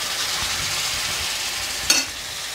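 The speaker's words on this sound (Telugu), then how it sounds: "చిల్లీ కూడా బాగానే వేగింది ఇప్పుడు ఈ చికెన్ ముక్కలు వేసుకుందాము" Chicken pieces frying with chilli in a pan, a loud steady hiss of hot oil with one sharp spit or stir sound near the end.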